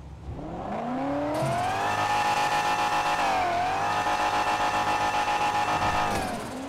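Chevrolet S10 pickup truck engine in GTA 5, revving hard and loud, its tone climbing and dipping through steady acceleration with a buzzy, continuous drone close up.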